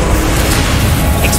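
A Confringo fire spell goes off in Hogwarts Legacy, a loud, dense, sustained blast of roaring noise lasting over a second with no distinct onset or tail, filling the foreground.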